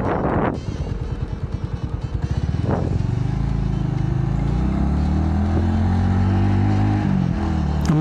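A carbureted Bajaj Avenger 220 cruiser motorcycle is ridden; a low engine rumble builds as it gets going and settles into a steady drone under wind noise.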